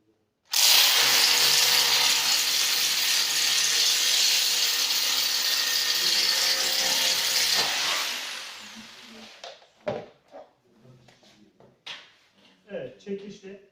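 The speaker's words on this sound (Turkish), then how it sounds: "Yapabildiğiniz kadar içeri doğru delin." A power drill whines loudly and continuously for several seconds while drilling into a wall for drywall anchors, then stops, followed by someone talking.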